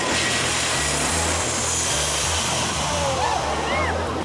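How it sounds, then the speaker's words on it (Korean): A jet airliner makes a very low approach over a beach toward a short runway, its roar loud, broad and continuous, filling the whole stretch without letting up. "비행기가 활주로에 내리기 위해 상당히 낮게 접근해야 하는데"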